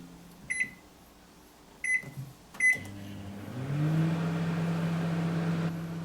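A microwave oven starts with three short keypad beeps, then settles into a steady low hum as it heats a pouch of microwave rice.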